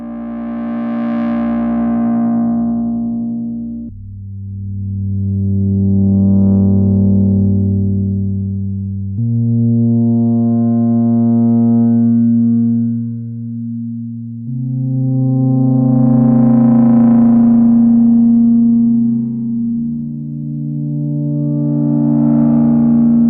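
A Moog Grandmother semi-modular analog synthesizer plays a slow sequence of sustained, distorted bass and lead notes, each swelling and fading with shifting filter brightness, loud and with no voices.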